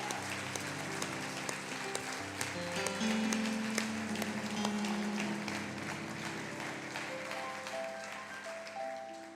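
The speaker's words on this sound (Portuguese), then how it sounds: "Você pode aplaudir Ele?" A church congregation claps together at a service, a dense spread of hands under sustained music tones, steady and moderately loud throughout.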